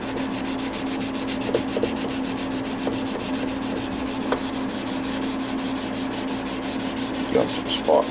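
Sanding with 320 grit sandpaper, a continuous close, rhythmic scratching rub with faint clicks and no talking.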